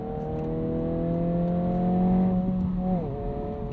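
A 2022 Honda Civic Si with its six-speed manual revs smoothly, holding a steady engine note that climbs slightly before a quick blip and drop of a rev-matched downshift, heard from inside the cabin.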